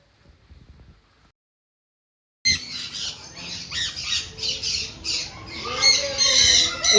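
Many parrots squawk in a busy aviary at a parrot-and-bird park near Nashik, loud harsh calls overlapping continuously after a brief quiet start.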